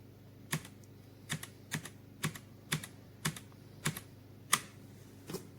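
Keys on a Redragon K556 RGB backlit wired mechanical gaming keyboard are struck one at a time in a slow, fairly even rhythm, about nine crisp close clacks over a quiet low hum.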